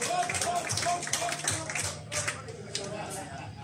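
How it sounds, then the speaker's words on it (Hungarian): Concert audience at the Soul Hunter Music Club applauding the band: dense, steady crowd clapping fills the room, loud and continuous, with a voice speaking over it. "Nektek jár a taps!"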